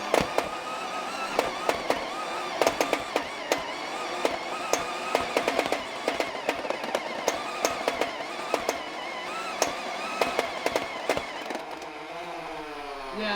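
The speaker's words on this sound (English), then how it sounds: "let's see how reliable the rate of fire on the Mach 100 is." A Nerf Mach 100 flywheel blaster fires rapidly, a steady stream of sharp clacking shots over a constant motor whine, close and loud, with the flywheels spinning down at the end.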